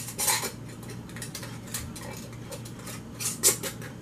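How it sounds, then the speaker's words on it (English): Metal lids set onto rims of pint-and-a-half glass canning jars for chicken and bean soup, a few sharp clinks and taps near the start and end with quieter handling between, no talk. "Put my lids on."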